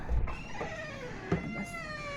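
A cat makes a short, clear meow while eating indoors, with some faint background clatter around it.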